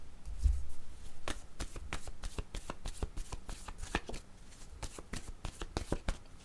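Tarot cards riffled and shuffled by hand at close range, a rapid run of crisp flicks and soft slaps that keeps going with a steady, uneven rhythm and no talking.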